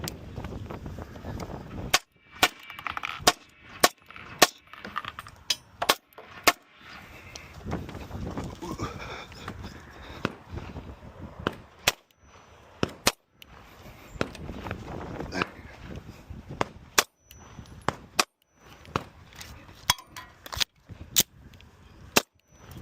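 Pistol shots from a Kimber 2K11 Pro Comp at an IDPA match ring out in irregular bursts of sharp, loud cracks across the stretch, with quieter shuffling and ambient noise between strings of fire.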